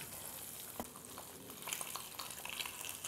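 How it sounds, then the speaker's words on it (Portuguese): Eggs fry in hot bottle butter in a Teflon pan, a steady crackling sizzle with sharper pops and spits, close and continuous throughout. "ele vai fritando os ovos ali naquelas partes que você ainda está um pouco mole ainda"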